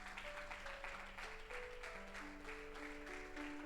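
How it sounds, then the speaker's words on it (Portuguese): A church congregation claps steadily at the close of a worship service, soft and distant, with sustained keyboard notes held underneath. "Você pode aplaudir Jesus mais uma vez?"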